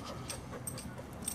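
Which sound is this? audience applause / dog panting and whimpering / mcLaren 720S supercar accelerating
dog panting and whimpering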